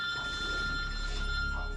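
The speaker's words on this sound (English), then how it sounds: "You're ringing" A telephone rings at a wildlife control office, a steady electronic warble of tones pulsing continuously under a low background hum.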